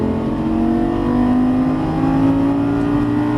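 A Lamborghini Gallardo Superleggera LP570 accelerates down a straight, its engine note climbing as a loud, steady, continuous roar from inside or near the car, with no one speaking.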